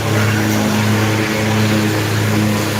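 A Nova city transit bus passes along a street during a walk, its steady engine drone loud and close, holding a constant rumble for the whole stretch with no talk over it.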